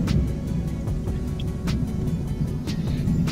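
Heavy midnight highway traffic near Tindivanam, heard from inside a moving car. A steady low engine and road rumble carries on throughout, with several brief whooshes from passing vehicles.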